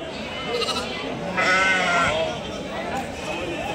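A ram bleats nearby in a drawn-out wavering call at a weekly sheep market in Angallu, with people talking in the background.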